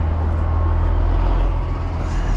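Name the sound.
dump truck at a jobsite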